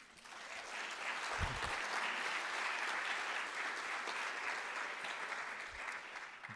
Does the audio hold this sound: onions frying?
no